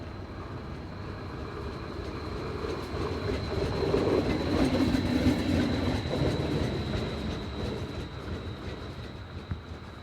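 A passenger train runs along a European railway, a steady rumble and rolling clatter that swells through the middle as it passes nearby, then eases slightly, heard alone without voices.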